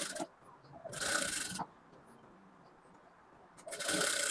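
A sewing machine stitches a double-folded fabric strip for a halterneck blouse, running in two separate bursts with a quiet pause between them.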